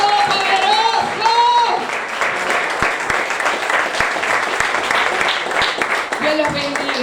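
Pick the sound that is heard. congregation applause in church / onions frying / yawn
congregation applause in church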